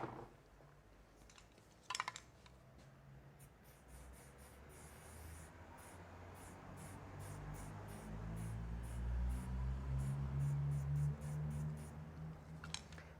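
A spray paint can hisses steadily while filling in a mural, a soft, continuous broadband spray that swells slightly louder partway through, with a few faint clicks and light handling noises.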